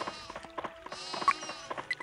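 Sheep bleat at a sheep farm in the video game Die Siedler 4, short quiet cries scattered among soft rhythmic tapping and light game ambience.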